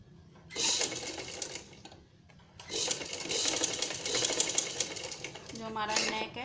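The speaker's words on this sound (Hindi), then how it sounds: "इसको सेट करते हुए पूरी में सिलाई लगा देंगे" An electric sewing machine stitches a hook strip along the neck of a high-neck designer blouse in bursts of fast, rattling stitching up close, with short pauses. Someone talks quietly under it.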